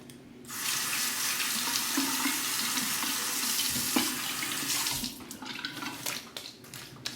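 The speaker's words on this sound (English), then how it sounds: "Quick face rinse." Tap water runs steadily into a sink as a face is rinsed mid-shave, a continuous splashing wash that breaks into short splashes and drips near the end.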